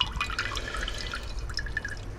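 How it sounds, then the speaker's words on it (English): Liquid from a gold recovery stock pot pours and drips into a bigger glass beaker, a close, busy run of trickling splashes and small drips that continues throughout. "what I may have to do is pour it into this bigger beaker and then let it settle from in there"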